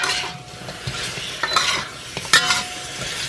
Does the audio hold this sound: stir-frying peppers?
yes